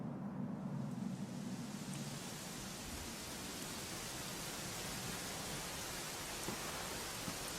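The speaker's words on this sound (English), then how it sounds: "You know, it was raining like this the last time I ever saw her." Steady rain falling in the Dragon Quest XI game world, a soft, even hiss of rainfall throughout with faint low rumbling beneath and no voices.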